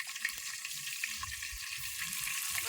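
Ginger garlic paste hits hot oil for a mutton curry, giving a steady, close crackling sizzle that holds evenly from start to finish with no talking.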